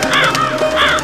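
A crow caws loudly and close, giving two harsh, hoarse calls separated by a brief pause.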